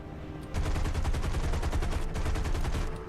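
Rapid aircraft machine-gun bursts from a flight video game played with an X55 controller, a dense, loud, continuous rattle of shots starting about half a second in over steady engine drone.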